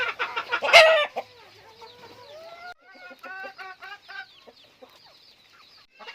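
Chickens sick with fowl pox on a poultry farm cluck and call. One loud, sharp squawk comes early, then a run of close, rhythmic clucks and chatter with no voices.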